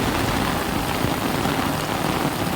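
A torrential downpour hisses and drums steadily and close by, loud and continuous throughout, with no one speaking.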